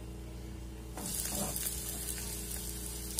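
A large hamburger patty sizzles in a nonstick pan greased with a drop of oil over lowered heat, a steady close frying hiss that swells up suddenly and then holds constant.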